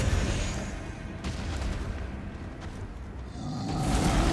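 Elden Ring incantation hurling rapid stones at a common troll, a dense rumbling barrage of booming impacts and whooshes that stays loud and continuous, easing slightly midway before swelling again, with no talking.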